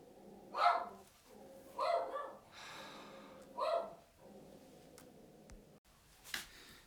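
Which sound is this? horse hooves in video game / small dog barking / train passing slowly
small dog barking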